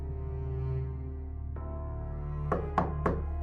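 Three quick, sharp knocks on a door ring out close and distinct, sounding over a steady low drama-score hum, preceded by a single faint thud.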